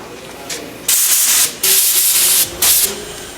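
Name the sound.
spray gun spraying metallic paint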